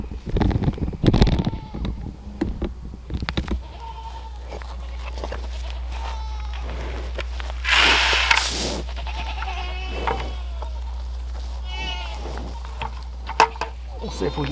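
Several goats bleat loudly from nearby, their cries overlapping with a few footsteps and shuffling in between.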